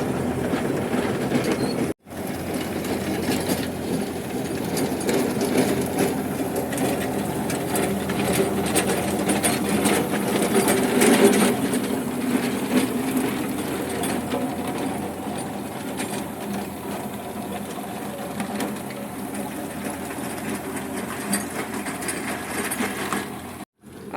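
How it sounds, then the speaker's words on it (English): An agricultural tractor's engine drones steadily for the whole stretch, with a rattly, mechanical chatter that swells toward the middle as it passes close by and then eases off. "Okay, I had to let Giovanni pass with the tractor. It was too noisy."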